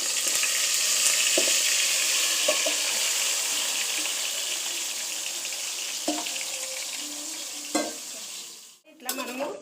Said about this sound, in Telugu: ఇప్పుడు మనం అన్నీ కలిపి పెట్టుకున్నాం కదా, అవన్నీ కూడా ఈ నూనెలో వేసుకోవాలి